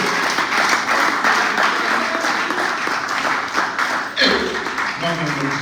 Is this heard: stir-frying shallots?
no